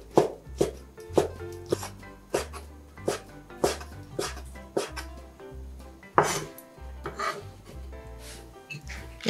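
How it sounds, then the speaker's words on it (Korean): A knife thinly slices ham into strips on a cutting board for a cabbage and ham stir-fry. Steady, close chopping taps fall in an even rhythm over soft background music. "슬라이스 햄 5장도 얇게 채를 썰어줍니다."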